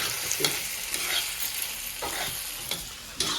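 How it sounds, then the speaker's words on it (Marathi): Grated corn is stirred in a hot pan, a continuous sizzle broken by several scraping strokes of the spatula at irregular intervals, close and clear with no talking. "आणि असं सारखं परतायचं"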